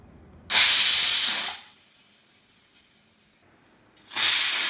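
A pressure cooker of spinach curry vents steam in two loud, broad hissing bursts, the first lasting about a second before tapering off, then a quiet gap before the next blast starts.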